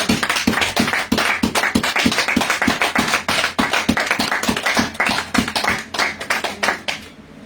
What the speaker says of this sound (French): Est-ce qu'on peut applaudir le roi des rois pour ça?